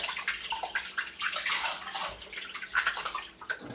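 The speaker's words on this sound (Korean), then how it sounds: "묵은지 반 포기와 속 조금을 양재기에 담아 흐르는 물에 양념을 털어내고" Running water splashes over aged kimchi in a metal basin as the seasoning is rinsed off, a steady rushing stream with soft sloshes, close and moderately quiet.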